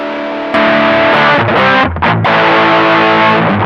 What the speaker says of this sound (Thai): อันนี้เป็นแบบใช้เสียงแตกเฉยๆนะครับ ยังไม่ได้เปิดบู